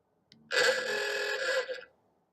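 A telephone rings once, a loud bright burst lasting just over a second after a short click, then stops into silence.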